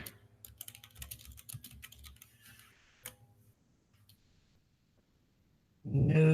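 Rapid bursts of typing on a computer keyboard, close and crisp keystrokes clustering for about three seconds, then sparse clicks and near silence before a loud noise cuts in at the end.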